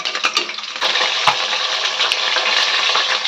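Aar fish frying in hot oil in a home kitchen: a steady, bright sizzle holds throughout, with a few sharp pops and clinks near the start and along the way.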